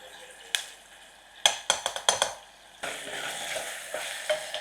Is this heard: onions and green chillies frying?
yes